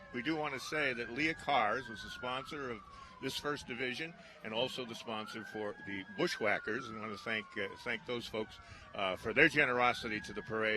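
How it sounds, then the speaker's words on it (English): A siren wails and sweeps up and down in the background at the 2017 Holyoke St. Patrick's Parade while someone talks continuously over it. "as you can hear the sirens in the background"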